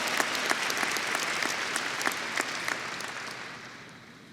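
Graduation audience applauding at a university valedictory ceremony, sustained loud clapping from a large crowd with crisp individual claps standing out, easing slightly toward the end.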